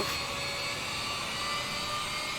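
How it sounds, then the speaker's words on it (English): A Qantas 787-10 Dreamliner's jet engines fill a steady, broad cabin roar with a faint high whine ahead of takeoff from runway 12 at Newcastle, heard alone without talk. "Qantas 787-10 Dreamliner, and we're going to be taking off from runway 12"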